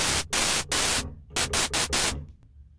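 Raw white noise from the noise generator of an Arturia MiniBrute analogue synth, loud full-band hiss gated on and off in several bursts of varying length, then trailing away, with no talking.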